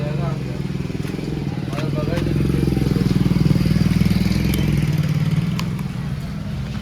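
A washed motorcycle's engine starts and idles nearby with a steady low throbbing rumble that swells slightly in the middle, while voices are heard over it.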